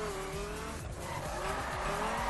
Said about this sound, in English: I can drift with the fucking circuit cars because it's really easy to drift with these bad boys